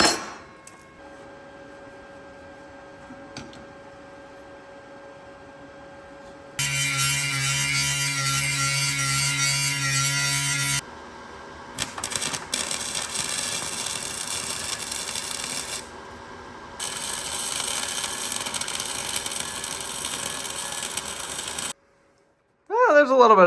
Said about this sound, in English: we weld this onto the container